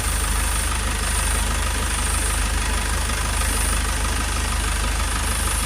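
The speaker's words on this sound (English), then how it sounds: "so you've got the engine running" A loud, continuous engine drone with a rough, even rumble from a Toyota ProAce 2.0 van, running steadily close by without any voices.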